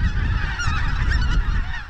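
Geese honking in Latvia during spring migration, with several loud, close calls overlapping in a busy, continuous chorus over a low background rumble.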